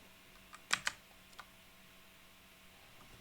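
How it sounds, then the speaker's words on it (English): A computer keyboard is pressed for a Ctrl and backtick shortcut, heard as a quick cluster of two or three sharp, close key clicks followed by a faint lone tap in a quiet room. "press Ctrl and the backtick key"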